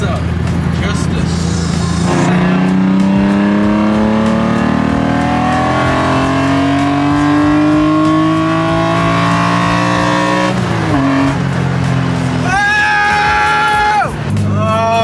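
An S54-swapped BMW E30 weighing about 2,300 pounds accelerates hard at night, engine pitch climbing through several gears with a loud, close, rising howl and brief drops at shifts, and a voice talks over it.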